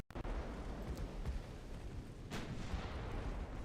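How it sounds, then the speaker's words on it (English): Warship guns fire during a naval battle in Ultimate Admiral Dreadnought, with a steady low rumble of distant artillery and a few sharper booms standing out, including one strong report in the middle. "This is our own fucking ships shooting our fucking cruisers."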